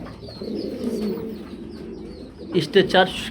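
Pigeons at a pigeon farm coo in a low, steady murmur throughout, with a few louder, nearer coos standing out near the end.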